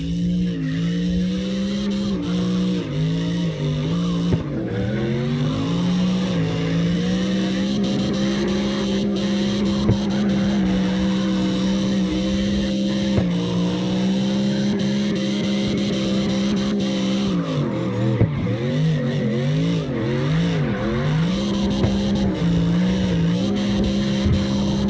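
An old Ford Mustang drifts in the CarX Drift Racing Online game, its engine droning and revving in loud wavering tones with steady tire squeal and skidding running throughout. No one speaks.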